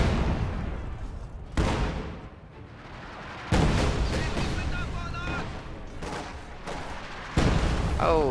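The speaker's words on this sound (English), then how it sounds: "But the high explosive barrage may be sufficient." High-explosive artillery barrage in a wargame, Raketenwerfer rockets and shells pounding around an Su-85 tank: repeated loud booming impacts in several bursts, with rumbling between blasts and a voice talking faintly underneath.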